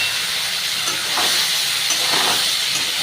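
Cauliflower florets fry in a pan for a cauliflower and rohu fish head ghonto, producing a loud, continuous hissing sizzle with a few faint scrapes, close and steady with no talking.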